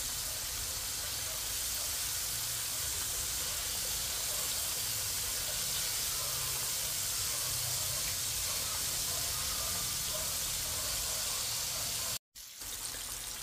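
Chicken frying in a pan over low heat for chicken teriyaki, a steady sizzle with a crackling hiss that holds continuously at moderate volume and then cuts out abruptly near the end.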